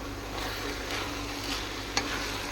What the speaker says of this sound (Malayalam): നമുക്ക് നന്നായിട്ട് ഇളക്കി കൊടുക്കാം.